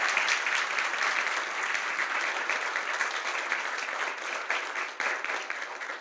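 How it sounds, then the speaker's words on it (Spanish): Audience at a human resources forum applauding the panelists, a sustained, even wash of clapping from a large crowd that holds steady for several seconds without letup. "Les voy a pedir que le demos un fuerte aplauso a los penalistas."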